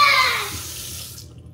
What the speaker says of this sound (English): Mommy's washing dishes.